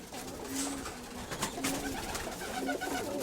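Young pigeons coo softly in a loft, a few low murmuring calls overlapping against steady background noise.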